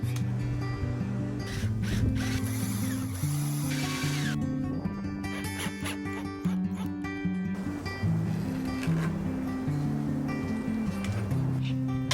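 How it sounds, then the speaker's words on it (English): Power drill driving screws through two stacked wooden boards for a chambered wooden surfboard, in repeated short whirring bursts that rise and stop, close and loud, with pauses between. "I figured out that I can do 2 boards at the same time by screwing them together"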